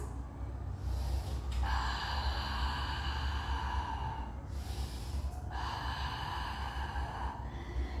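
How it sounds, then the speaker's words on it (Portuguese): Slow, deep breaths during a Pilates breathing exercise for lower back pain, two long airy exhalations over about eight seconds against a steady low background. "Respiração do Pilates."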